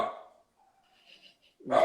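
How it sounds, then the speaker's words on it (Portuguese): A dog barks indoors after a washing machine shakes, a faint short bark early on and a louder, closer bark at the end, with quiet pauses between. "vocês estão vendo meu cachorro aí latindo, porque a máquina de lavar roupa balançou"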